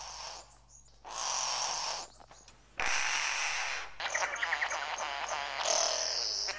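An Albert's lyrebird in Australian forest mimics the call of a satin bowerbird, giving a series of clear, fairly close whistled and chattering phrases broken by short pauses.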